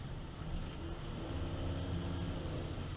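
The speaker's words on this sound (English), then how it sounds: "More downshifting, you can hear a nice V8 sound." A deep fuel-injected V8 in a 1995 Ford F-150 short-wheelbase 4x4 pickup rumbles steadily from inside the cab, low and droning as it downshifts, with no talking.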